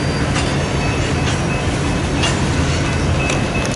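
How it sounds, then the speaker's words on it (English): A freight train rolls past on the Sioux City subdivision track in Fremont, Nebraska, with a loud steady rumble, rhythmic wheel clicks and occasional faint squeals. "She likes to watch the trains go by."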